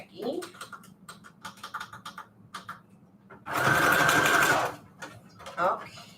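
A sewing machine runs a zigzag stitch to attach fabric onto manila tags. It makes one loud, steady whir of about a second, with lighter clicks and handling sounds before it and a person talking nearby.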